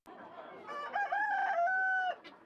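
A rooster crows loudly and close among other chickens, guinea fowl, turkeys and quail at a poultry market, with a long drawn-out call over a busy background.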